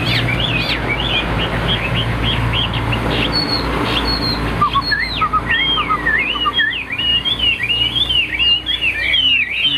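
A caged songbird sings loudly and close, pouring out rapid varied whistled phrases and chirps in near-continuous bursts over a low background hum.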